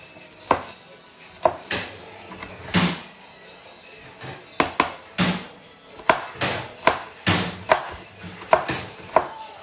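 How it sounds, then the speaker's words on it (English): Knife chopping vegetables on a board while bolanee is prepared in a home kitchen, a steady run of sharp, close thuds in uneven bursts, with faint background noise between strokes. "I hope all this chopping noise isn't loud."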